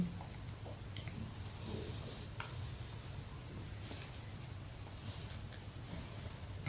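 A pen drawing a cyclic quadrilateral on paper, with faint scratchy strokes and short scribbles coming in irregular bursts over a low steady background hum.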